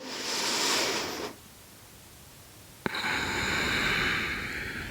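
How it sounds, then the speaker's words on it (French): Two long breathy exhales of Ujjayi yoga breathing, air pushed through the back of the throat with a soft rushing hiss, close and steady, separated by a quiet pause and a brief click. "on expire par l'arrière de la gorge en respiration Ujjayi"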